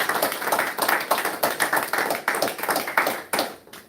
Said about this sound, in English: Just give our beloved ministers another round of applause